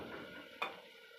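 Tomatoes fry with a goat meat curry base in a pan in a small room, giving a faint, steady sizzle with one brief stirring scrape near the middle.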